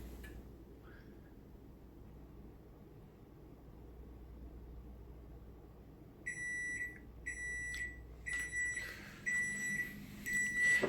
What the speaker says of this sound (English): so that was the timer